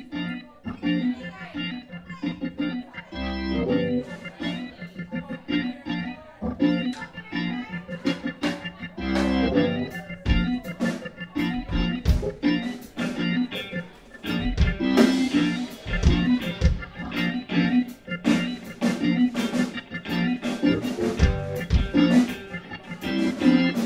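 Live band playing a loose New Orleans-style groove on stage at The Acoustic in Bridgeport, steady drums and bass with keys and guitar, continuous and full for the whole stretch.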